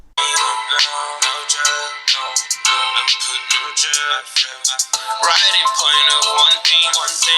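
A bright electronic ringtone melody plays from the small speaker of a NUU B30 Pro Android phone, with quick repeated notes in a continuous, slightly tinny stream.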